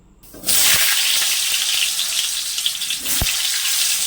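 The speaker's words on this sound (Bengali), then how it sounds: "আলুটা সবার আগে ভাজতে দিয়ে দিই কড়াই হয়ে গেছে গরম" Potato pieces frying in a hot wok for a mutton curry, a loud steady sizzle that bursts in after a quiet start and crackles on close up, with a brief clink near the end.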